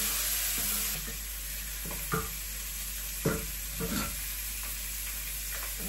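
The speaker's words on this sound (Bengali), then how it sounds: "এখন দিয়ে দিতেছি মাছ।" Fish frying in a pan with ground mustard and fried onion gives a steady, soft sizzle throughout, broken by a few brief stirring scrapes and clinks.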